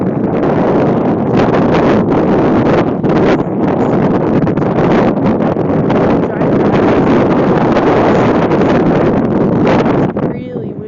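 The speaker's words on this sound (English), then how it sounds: "It's really windy right now." Strong wind blasts across the microphone at a boat dock on Flaming Gorge, a loud, continuous roaring buffet with gusting surges and brief dips, drowning out everything else.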